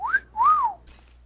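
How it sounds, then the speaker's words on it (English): A person whistles two clear notes, the first short and rising, the second longer and arching, close and distinct over a quiet background with no talk. "I will whistle in your video too"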